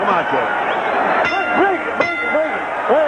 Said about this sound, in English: And Trinidad wants more after the bell